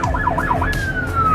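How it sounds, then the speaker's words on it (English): A nearby emergency vehicle siren wails in a rapid yelp that shifts into a long descending tone, loud over the low rumble of traffic in Inglewood. "hearing emergency vehicles minute after minute"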